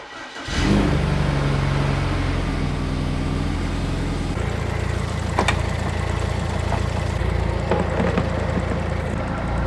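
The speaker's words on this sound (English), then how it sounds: "So now the car is driving, but there's a problem with the misfire on idle." A BMW E92 320i engine starts and settles into a steady, rough idle close by, misfiring, with occasional uneven knocks and stumbles breaking the rhythm.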